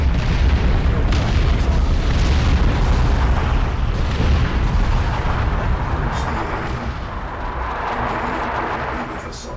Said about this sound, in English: Thunderhawks 3 and 4, follow with bombing run, purification spread.